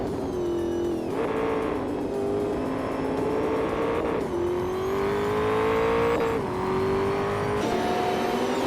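A 1994 Bugatti EB 110 LM race car engine in a racing video game roars loudly and continuously, its pitch climbing and then dropping with each gear shift roughly every two seconds.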